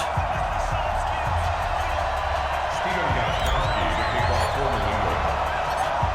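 A sold-out stadium crowd in the video game Madden NFL 20 roars steadily at a Patriots versus Panthers matchup, a constant wash of cheering beneath a play-by-play commentator's voice.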